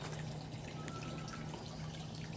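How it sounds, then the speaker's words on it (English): Water trickles softly in a garden, a faint continuous babble and dribble with no talking. "I like the sound of the water"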